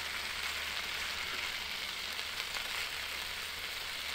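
A shrimp mixture frying in a pan gives a steady, close hiss and crackle of hot oil, continuous and alone for a few seconds.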